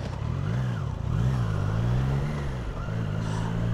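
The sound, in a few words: Triumph Tiger 660 Sport motorcycle engine while riding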